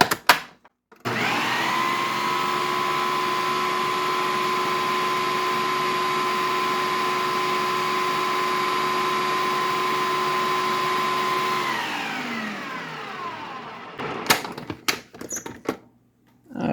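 A food processor minces ingredients in one long continuous run, a loud steady motor whine that spins down after about ten seconds, followed by a few clattering knocks of the bowl and lid.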